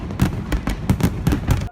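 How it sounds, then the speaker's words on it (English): Fireworks going off in a celebratory burst, a rapid series of loud booming bangs and crackles about every fifth of a second, close and continuous with no talking. "There's like fireworks going off."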